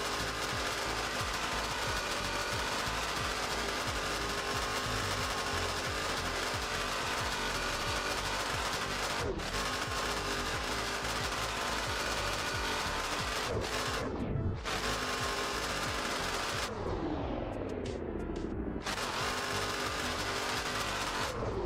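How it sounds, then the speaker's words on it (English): Loud, steady engine roar from a car in a racing simulator game, continuous throughout with a few brief dips and sweeping pitch drops as gears change or the car slows. "The car is very loud."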